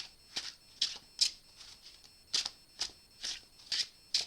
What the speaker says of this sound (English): So we give them some good shuffles